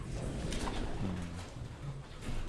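Pigeons coo in low, short bursts at an indoor loft during feeding, with a steady background hiss and no talk.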